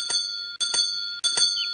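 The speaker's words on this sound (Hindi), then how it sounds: "कौन घंटी बजा रहा है?" A doorbell in a Hindi-dubbed cartoon rings three times in quick succession, each a bright two-tone electronic chime about half a second apart, loud and close with no talking.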